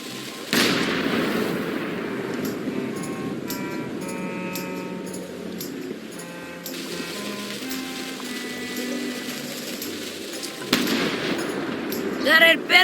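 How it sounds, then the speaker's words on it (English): Cannon fire in the pirate adventure game Return to Monkey Island: a sharp blast opens the stretch, followed by tonal game music and effects, then a second loud boom near the end with clattering bursts after it. "Ready for cannon firing."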